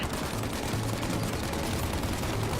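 Continuous video game gunfire, a dense steady barrage of shots filling the whole stretch at an even, fairly loud level with no pauses and no voices.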